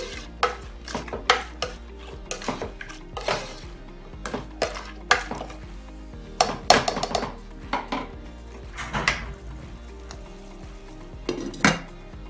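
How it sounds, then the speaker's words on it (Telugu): Onions sizzle in a pan with a little salt while a spoon stirs and scrapes against the metal in irregular bursts, close and clear with no talking. "ఒకసారి కలుపుకొని high flame, medium flame adjust చేసుకుంటూ ఫ్రై చేసుకోవాలి"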